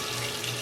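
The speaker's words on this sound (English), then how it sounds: "Let that water drain down." Steady rush of water running and draining in a kitchen sink at home during Thanksgiving dinner preparation, a continuous close hiss with no voices.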